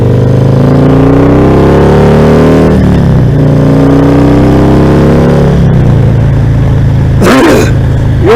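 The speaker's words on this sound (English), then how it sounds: "You'll notice a lot of times I lean in or I pull back whenever I give it the gas on this bike." A Harley motorcycle fitted with a stage 2 kit revs loudly and steadily as the throttle opens, the engine note rising and falling across several pulls, with a brief wind-buffeting burst near the end.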